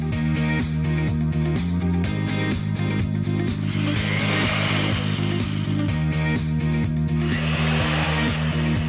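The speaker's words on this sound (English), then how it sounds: "Use your drill and a 1/2 inch socket to fasten your lag bolts." A power drill with a 1/2 inch socket whirs in steady bursts, its motor pitch shifting as it drives lag bolts, with brief pauses and grinding texture between runs.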